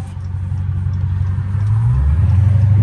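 Car engine running in first gear with the windows rolled all the way down, a steady loud low rumble that rises in pitch as it revs, heard from inside the cabin.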